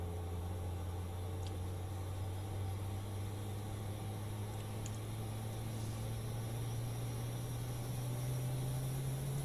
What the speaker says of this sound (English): Let me know if you can hear the aeroplane.